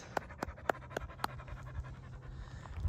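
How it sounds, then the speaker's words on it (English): A dog pants hard during a trail run up Scratchgravel Peak, a quick series of sharp, close breaths that fades into quieter outdoor background. "Yeah, you are panting so bad."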